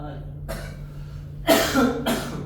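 A few short, harsh coughs, close and fairly loud, over a steady low hum, with a pause between bursts.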